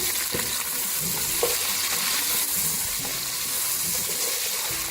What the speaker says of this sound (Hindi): प्याज शामिल कर देंगे, मीडियम साइज का प्याज लिया, इसको ब्राउन करेंगे